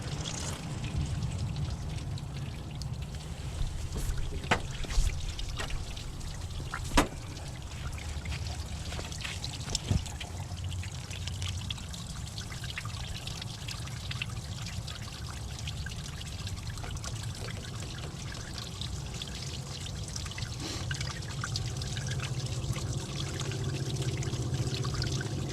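Dirty coolant drains from a Jeep XJ, pouring and trickling steadily for a long stretch with occasional drips and clunks, the flow growing slightly heavier toward the end.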